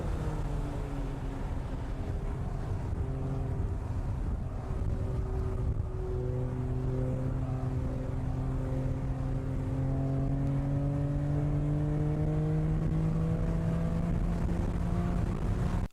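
In-car sound of a car driving on a race track, steady engine drone rising slowly in pitch as it accelerates, under constant wind and road noise.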